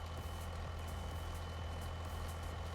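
A heavy truck engine in Farming Simulator 25 on the BR-163, MS Brazil map runs at a steady, close, low idling drone with an unbroken rumble throughout.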